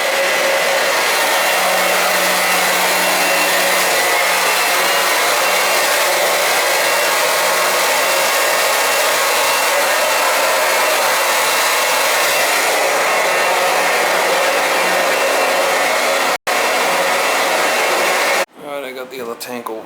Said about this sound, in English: The other tank over here, starting to cut it up.